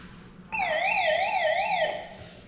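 A NOAA weather radio alert siren wails loudly in a fast rising-and-falling electronic warble for about a second and a half, then cuts off, with faint background noise before and after.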